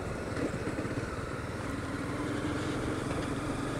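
A Honda CBR300R motorcycle rides through city traffic, its engine giving a steady, close, unbroken drone with road and wind noise for the whole stretch.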